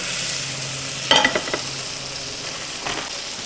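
Butter sizzles gently in a pan over low heat, a soft steady hiss broken by a short cluster of stirring scrapes and one later clink.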